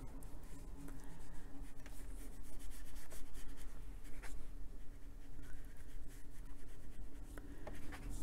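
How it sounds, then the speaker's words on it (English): Inktense pencil scratches and rubs across paper in a fine drawing session, a faint, steady, close-up scraping texture with small strokes and no voices. "we can take it out with the pencil."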